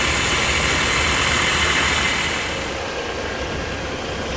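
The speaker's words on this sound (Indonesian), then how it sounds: "ini tampilan bus Al Hijrah Suite Kombi ya" Al Hijrah Suite Kombi bus engine idling steadily and loudly up close, a constant rumble with broadband hiss that eases slightly in level partway through.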